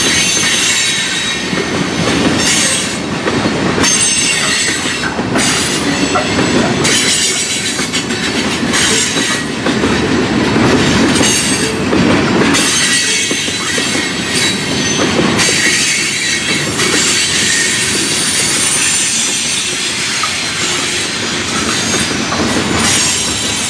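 A Norfolk Southern freight train rolls past close by at Fostoria for the whole stretch, wheels clattering and squealing in a loud, steady roar with no voices.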